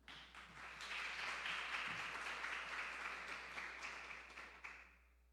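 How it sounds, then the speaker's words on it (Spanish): A church congregation applauds during a Spanish-language sermon, a dense wash of many hands clapping that swells quickly, holds steady for several seconds and then fades, heard from a distance in a large room. "Denle un aplauso al Señor."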